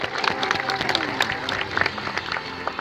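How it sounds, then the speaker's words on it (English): Audience clapping at a sea lion show at Blackpool Zoo, a steady close burst of applause with some crowd murmur lasting the whole moment. "Let's give Anya a big round of applause."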